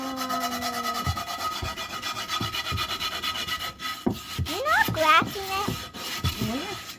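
A scrubber rasps back and forth over a rusty Lodge cast iron skillet in quick rough strokes, close and fairly loud, while a person talks over the scraping.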